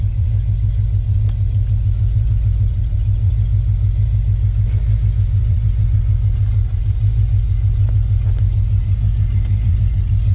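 A 1986 Ford F150 with a 351W V8, NP435 manual, long-tube headers, X-pipe and glass-pack exhaust cruising on the road, giving a loud, steady, deep rumbling drone heard close from the cab for the whole stretch.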